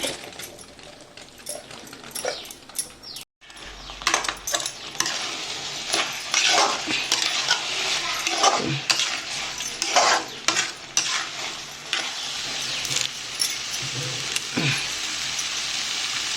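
Tamarind poha is stirred in a pot with a spoon, producing repeated scraping and clinking strokes over a steady sizzle, close and fairly loud, with a short gap early on.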